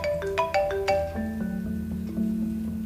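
A phone plays a bright melodic ringtone for an incoming call, a quick run of electronic notes followed by a sustained tone, loud and close in a dramatized domestic scene.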